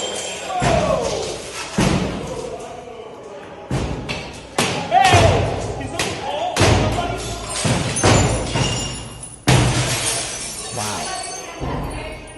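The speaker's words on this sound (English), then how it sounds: "And there's them shattering the glass." Windows being smashed in by protesters attacking a Charlie Kirk event: a rapid series of heavy thuds and crashes with glass shattering and clinking, repeated irregularly over roughly twelve seconds amid crowd noise and voices.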